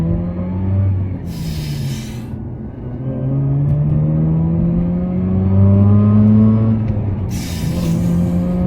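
A Mazda RX8 rotary engine revs up with rising and falling tones, held steady between pulls, loud and close with no talking.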